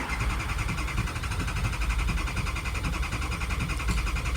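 A 2003 6.0 Powerstroke diesel truck engine that is low on power cranks and churns as a loud, steady, close rumble with rough low-end texture, continuing without a break.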